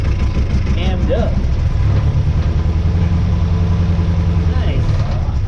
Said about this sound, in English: Dang, that idled for a while.